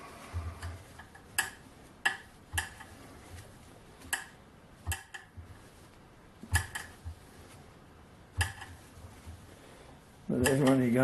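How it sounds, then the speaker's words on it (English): A small metal lathe turning while set a bit tight, giving off a faint, irregular ticking, with sharp clicks spaced about a second apart over a steady low running hum, ending in a louder tonal burst. "when it's making that ticking noise, that means it's a bit on the tight side"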